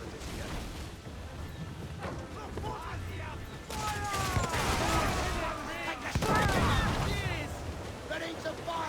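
Naval cannon fire in Assassin's Creed IV: Black Flag: a ship battle with booming volleys and crashing impacts, growing louder and denser midway, over a churning battle din.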